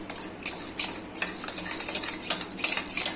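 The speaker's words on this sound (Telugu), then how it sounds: "బాగా ఉండలు లేకుండా కలుపుకోవాలి" A spoon scrapes and clinks repeatedly against a bowl in quick, uneven strokes while mixing custard powder smooth, close and fairly loud, with no talking.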